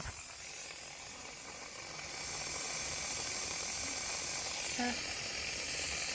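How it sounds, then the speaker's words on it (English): Steam hissing steadily from a pressure cooker releasing pressure while mulberry jam cooks, a broad continuous hiss that swells after a couple of seconds and holds loud, with a brief beep near the end. "there's quite a bit of steam coming out"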